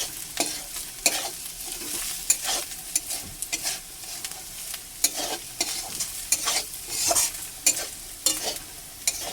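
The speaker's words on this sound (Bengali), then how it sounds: "এখন কিছুক্ষণ নাড়বো বন্ধুরা" Ground chili and turmeric sizzle in a pan for a banana-stem and masoor dal dish, stirred over and over so that sharp spatula scrapes repeat above a continuous frying hiss, up close.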